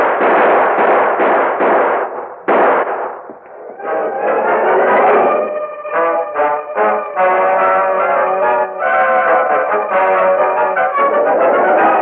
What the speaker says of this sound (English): We'll shoot our way out.